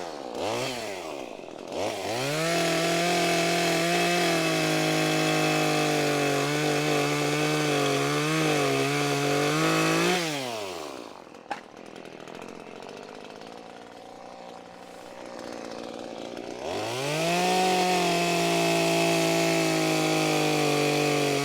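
A chainsaw revs up and bites into wood twice, its loud buzzing whine bogging under load, with a quieter idling pause between the two cuts.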